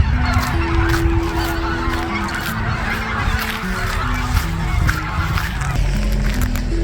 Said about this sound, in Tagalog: mga ibon yan